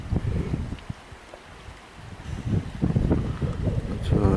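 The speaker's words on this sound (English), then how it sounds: "it's still pretty gusty" Gusty wind buffets a microphone outdoors among dry reeds near a Highland bothy, with low rumbling bursts that rise and swell toward the end, plus faint rustling.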